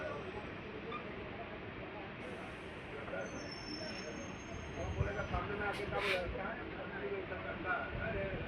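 A local train pulls out of Hooghly Ghat station, just before Bandel Junction in Hooghly district, with a steady broadband rumble of wheels and carriage noise that swells slightly near the end, heard from inside with indistinct voices.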